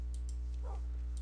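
A dog from the game Minecraft gives a brief bark amid a steady low electronic hum, with a few short high ticks around it.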